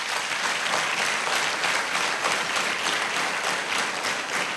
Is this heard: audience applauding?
yes